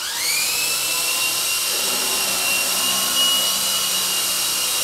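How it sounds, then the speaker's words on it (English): A high electric whine from small servo motors moving a Double Horse 9116 RC helicopter swash plate, rising in pitch at the start, then holding steady and buzzing continuously, close by. "here is normal movement for a 9116 helicopter swash plate"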